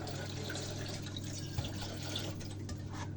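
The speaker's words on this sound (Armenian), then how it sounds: "ուղղակի լցնում ենք ջուր։" Water runs steadily from a tap into a pot for cooking spaghetti, a soft continuous pouring and splashing sound at low level with no talking throughout.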